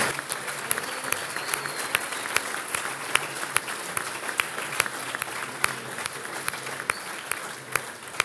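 An audience at La Nuit du Livre 2022 applauds the Creative Book team with steady, sustained clapping across the hall, punctuated by a few sharper nearby claps, with no talk.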